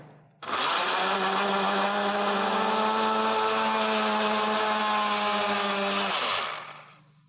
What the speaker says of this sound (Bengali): ব্লেন্ডার মেশিনে ব্লেন্ড করব